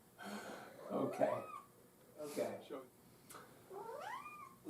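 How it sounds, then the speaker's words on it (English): A house cat meows several times, rising and falling wails close by in a quiet room of a historic home, with gaps between calls. "We have another kitty greeting us here."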